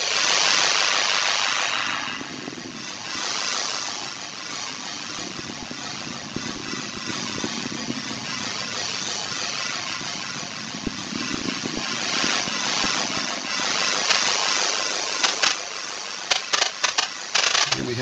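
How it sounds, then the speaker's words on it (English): Atlas V rocket carrying Boeing's Starliner roars steadily during ascent, a loud, continuous broadband rumble that holds for the whole span with slight fluctuations and crackle near the end. "Vehicle now throttling up."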